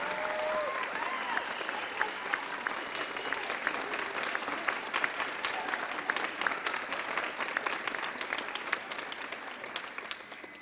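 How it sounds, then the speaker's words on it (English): Audience applause for fifth grade teachers at an elementary school graduation, a steady dense round of clapping from a crowd that continues evenly for the whole stretch, with faint voices mixed in. "Let's give our 5th grade teachers and Mrs. Ford another big round of applause."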